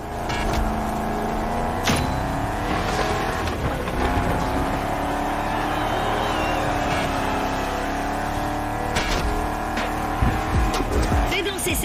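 A Shelby drifting in the racing game The Crew Motorfest, its engine droning steadily while tires squeal and skid in repeated bursts, with a voice talking over the game sound.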